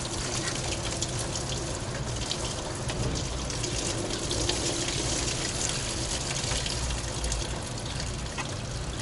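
Coolant drains from a removed hose on a VW Audi 2.0L TFSI engine, a steady, close, continuous gush of liquid pouring without pause for the whole stretch.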